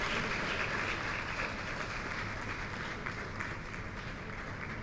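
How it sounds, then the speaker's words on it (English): A conference audience applauds in a steady, dense wash of clapping that holds evenly for several seconds without a break. "please let's give her a very warm and loud round of applause"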